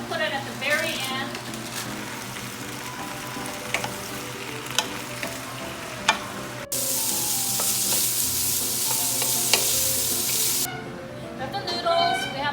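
Vegetables sauteing in a pan with dry penne pasta nearby, a steady loud sizzle with bursts of scraping and stirring, and a background voice talking at points.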